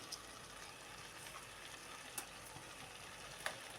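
A spoon stirs air potato curry seasoned with chili powder in a pan, giving a soft steady sizzle with faint scraping clicks near the end, quiet and with no voices.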